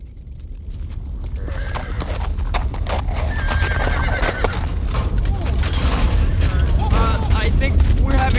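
Horses on a Hollywood film set gallop with loud, fast clip-clop hooves and repeated neighing and whinnying, under a deep rumbling din as voices shout over it.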